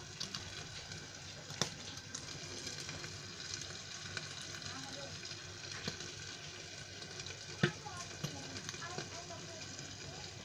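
Chicken and ash gourd (petha) frying in a pan, a steady low sizzle with occasional sharp pops and crackles, heard close and moderately quiet.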